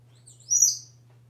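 A pet parrot lets out a single short, bright chirp, close and clear against an otherwise quiet room with a faint low hum.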